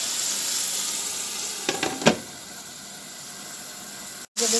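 Onions cooking in oil in a covered pot give a steady, faint sizzle and hiss, with a few brief clinks partway through and a short break near the end.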